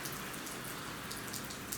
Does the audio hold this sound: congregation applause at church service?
no